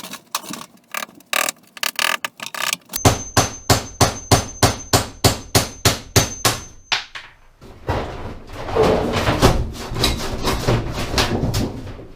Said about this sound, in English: Time to punch some holes in that scrap right there, or that sheet metal right there